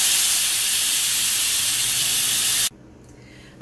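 A pressure cooker valve, with white-sauce pasta cooking inside, vents steam in a loud, steady hiss that cuts off abruptly near the end, leaving only a faint residual rush.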